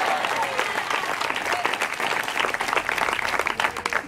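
A church congregation claps steadily and strongly during a sermon, dense sustained applause with a faint murmur of voices underneath.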